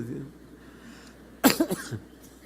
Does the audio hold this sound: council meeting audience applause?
no